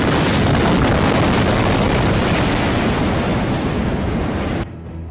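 The huge Beirut blast heard as a loud, sustained broadband roar with rumbling, shaking a building, continuing for several seconds before dropping abruptly to a quieter low rumble.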